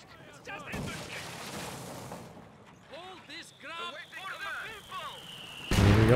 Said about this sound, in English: Mortar reaping some benefits there, forcing the machine gun to reposition slightly.